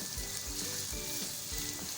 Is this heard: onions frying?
yes